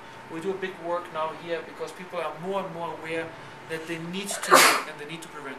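A man delivering a geology and volcanology lecture speaks steadily, then a single sharp sneeze bursts out near the end, loud and brief over the room.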